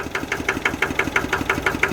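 A small 11-horsepower Kubota tractor engine runs steadily nearby with a fast, even knocking rhythm, a chugging idle that never changes pace.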